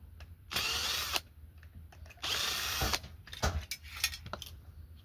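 A power drill tightening screws whirs in two loud, sustained bursts of about a second each, followed by shorter clicks and brief spurts, close by with no talk.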